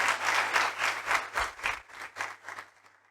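A church congregation claps through a Sunday sermon, a brief burst of hand applause that rises in uneven waves and then fades out within a few seconds.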